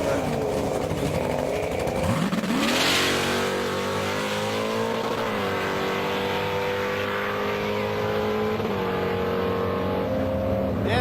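Big block Ford Mustang engine roaring on a drag strip run, a loud sustained revving drone that climbs sharply around two seconds in and holds steady with shifts, a crowd or announcer faintly underneath.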